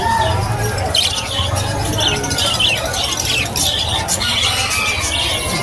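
Lutino birds squawking and chirping at the Malabon Pet Market, steady shrill calls over a dense crowd murmur with voices chattering in the background.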